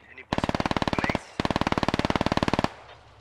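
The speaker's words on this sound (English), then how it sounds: "MG has opened up on something." Two sustained bursts of rapid automatic machine gun fire in the SquadOps video game, loud and close, each a fast even stream of shots separated by a brief pause.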